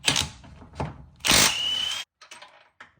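Power tool working a 17 mm subframe bolt during a K20 engine swap on an ES1 car, with short bursts of whirring and a sustained loud run before brief rattling taps, nearby and without speech.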